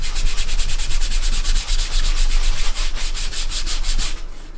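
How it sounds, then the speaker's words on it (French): Leather being buffed with a horsehair brush after a homemade conditioning elixir is applied: a steady, close rhythm of rapid brushing strokes, even and continuous, fading at the end. "Et vous pouvez tout simplement lustrer avec une brosse en poil de canasson."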